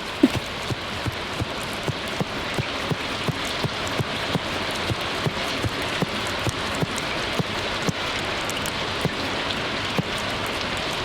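Steady rain patters in the farming video game Stardew Valley, a dense, even hiss of falling drops with faint repeating ticks throughout, running alone without voices.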